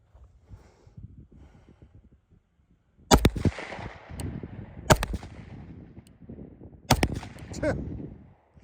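Three loud, sharp pistol shots from an OA Defense 2311 Compact Pro crack at an outdoor range, spaced a couple of seconds apart, each with a short echo tail over low background noise.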